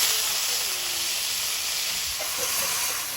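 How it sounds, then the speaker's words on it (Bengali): Dry red chillies, whole cumin and chopped garlic frying in hot oil, giving a loud, steady sizzling hiss with small crackles and pops throughout, no talking. "শুকনো লঙ্কা ভেজে নেব"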